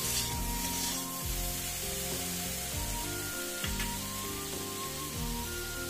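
Bethe saag greens hitting a pan of frying eggplant, a steady close sizzle with repeated scraping stir strokes and a dense crackle of oil throughout.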